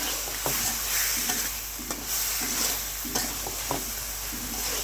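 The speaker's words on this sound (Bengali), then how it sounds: "দুই টেবিল চামচের মতন দিলাম করে কষিয়ে নিচ্ছি ভালোভাবে কষিয়ে নেবো" Coriander powder masala sautéing in hot oil in a pan for a fish and water spinach curry, a loud continuous sizzle broken by regular spatula scrapes and stirring knocks, no voices.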